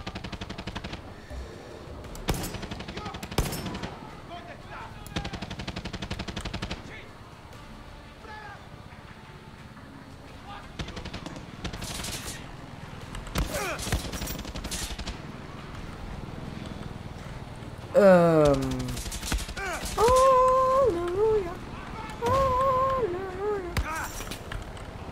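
Enemy gunfire in Far Cry 6, scattered bursts of automatic shots and single cracks over about twenty-five seconds, mixed with game music, horse hooves and other game sounds, with occasional talk over the top.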